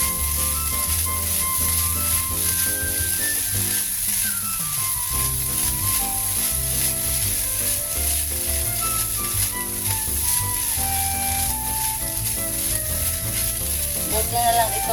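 Bacon fried rice with spring onion sizzles in a hot pan, a loud, continuous frying hiss with occasional stirring scrapes throughout.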